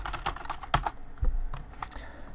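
Quick bursts of keystrokes on a PC computer keyboard as a folder name is typed, close and crisp clicks in an irregular rhythm with short pauses, no talking.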